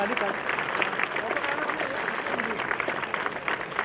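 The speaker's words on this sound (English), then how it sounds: "A huge round of applause, please." Audience applause at a summit inauguration ceremony, honouring the chief guest: steady, dense clapping from a crowd that runs unbroken at even loudness, with voices mixed in underneath.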